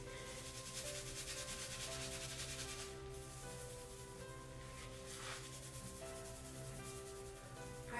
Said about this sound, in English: now you're just going to scrub it into the nape of your neck